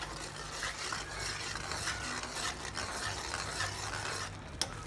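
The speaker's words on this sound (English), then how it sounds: "it's time to put the garam masala and stir it for a few seconds" Garam masala being stirred into a matar paneer gravy in a pan, a steady low scraping and bubbling sizzle running throughout with a brief sharp clink near the end.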